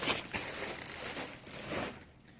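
A small 5 by 7 foot tarp being handled, giving a close, steady crinkling and rustling of plastic sheet that fades toward the end.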